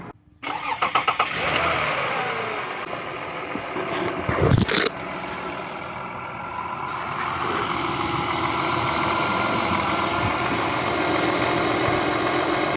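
A Toyota Sienna minivan engine cranks and catches after a power steering pump replacement, then settles into a steady, smooth idle that hums on evenly and close by.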